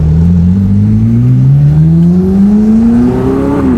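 A 2019 McLaren 600LT's engine revs steadily upward in one long, loud, continuous climb, the pitch rising smoothly before easing off slightly at the very end, with no talk.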